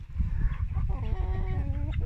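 Roosters and hens in a farmyard during a morning release of poultry, with loud, continuous clucking and crowing-like calls close by, a rising drawn-out call near the end, no talk.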